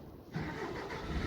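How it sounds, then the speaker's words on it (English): A heavy bakery lorry engine turns over and catches, settling into a low rumbling idle after a short quiet start. "I thought that was the sound of the engine starting in."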